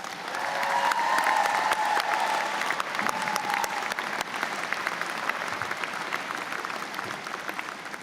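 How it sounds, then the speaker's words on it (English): An audience at a university convocation ceremony breaks into sustained applause, a dense wash of clapping from many hands that holds steady for several seconds before easing slightly. "May I ask you to join me in a round of applause for all your friends and family who have helped get you here today."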